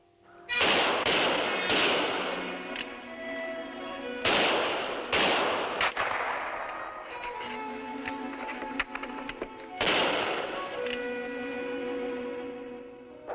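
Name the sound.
rifle gunfire in a TV episode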